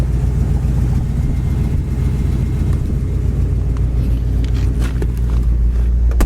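A 1963 Mercury convertible's engine runs steadily in Iowa, top down, a continuous loud low rumble with faint mechanical ticks and light revving near the end, no voices.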